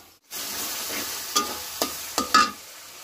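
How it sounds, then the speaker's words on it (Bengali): Ground spice masala sautéing in a pan: a burst of steady sizzling starts after a brief silence and carries on close and loud, with three or four sharp spatula scrapes toward the end. "দু মিনিট মতো মশলাটা কষিয়ে নেব।"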